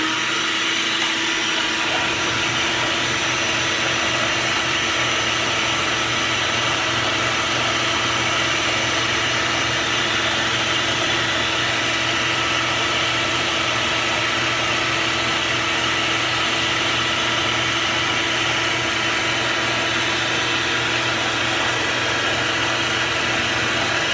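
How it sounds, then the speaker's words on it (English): A vacuum cleaner hooked up to a small disc sander while carving a cigar box guitar runs continuously at a steady, loud whine and roar for the whole stretch, with no talking. "hook it up to the vacuum cleaner"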